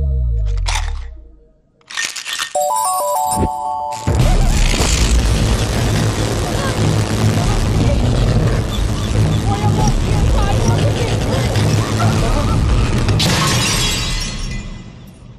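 Electric lights bursting in a comedy scene: a sharp shattering crash followed by a long, loud, sustained crackling and fizzing of breaking glass and sparks that fades out toward the end.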